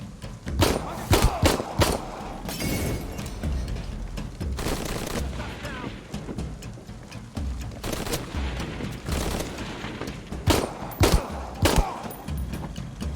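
Heavy gunfire from several weapons in Shadow of the Tomb Raider, sharp shots and bursts scattered across a running firefight, with distant booms mixed in.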